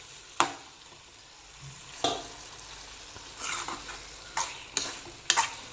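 Ridge gourd masala curry cooking in a pan, with soft sizzling and frying under a few sharp stirring clacks spaced across the clip, no talk.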